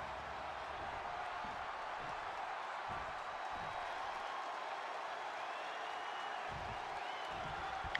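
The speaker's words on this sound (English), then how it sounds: "Crowd Simulator." A crowd simulator sound effect: a steady, dense wash of crowd noise that holds at an even level from start to finish with no single voice standing out.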